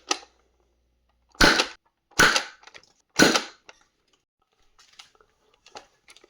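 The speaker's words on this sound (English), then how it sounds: "So we're going to just start with our standard Xtreme slugs." Supermaxx 5000 Xtreme blaster firing standard Xtreme slugs: three sharp, loud pops about a second apart, each followed by faint clicks and rattles of handling, then quiet.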